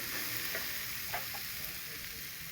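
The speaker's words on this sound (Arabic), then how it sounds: "غنضيف المقادير كاملين، غادي نحركوهم" Ingredients stirred with a spice mix in a frying pan, a close, steady sizzle with soft scraping of a spoon through the food.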